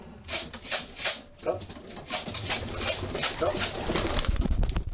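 Racing pigeons from a breeder's flock of about 300 birds coo and flutter in repeated soft bursts, close by and mixed with a voice speaking over them.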